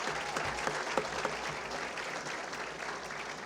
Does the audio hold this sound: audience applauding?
yes